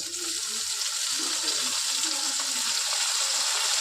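Cauliflower and chopped carrots frying in a pan, a steady dense sizzle and crackle throughout with faint stirring underneath.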